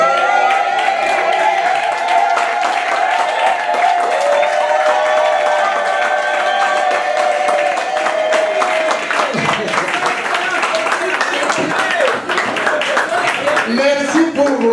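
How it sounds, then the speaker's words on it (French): Audience at an 80th birthday celebration for a mother applauds loudly and steadily throughout, a dense wash of clapping and crowd noise with voices and music mixed in. "Merci pour vos applaudissements."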